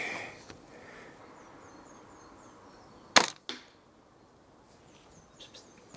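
A Walther Rotex RM8 air rifle fitted with a silencer fires one sharp, muffled crack outdoors, followed by a quick softer report, with faint birdsong in the quiet background.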